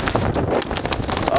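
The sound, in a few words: strong wind during a wind storm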